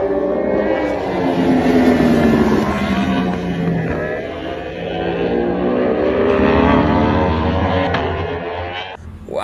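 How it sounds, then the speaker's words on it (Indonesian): A toy racing motorcycle gives off a loud, continuous motor whine that rises and falls in pitch, heard up close with no talk over it. "ini motor balap"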